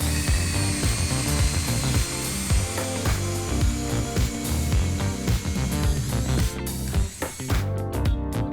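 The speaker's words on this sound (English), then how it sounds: "drill holes for the wine glasses in the top and the wine bottle" A power drill whines steadily through wood, its pitch dipping and rising as it bites, running almost continuously with a few short pauses near the end.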